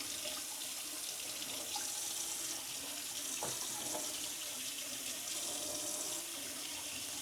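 A kitchen or bathroom faucet runs steadily at full flow, cold tap water splashing into a sink while being adjusted toward lukewarm for black-and-white film developing; a continuous, fairly loud hiss and patter with no talking.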